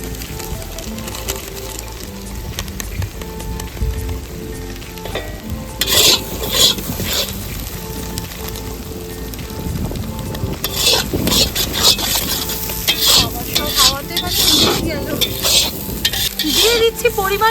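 Ground spices for a duck curry, among them Kashmiri red chili, cumin, coriander and turmeric with slit green chilies, sizzle in hot oil while a spatula scrapes and stirs the pan in close, rhythmic strokes that grow busier partway through.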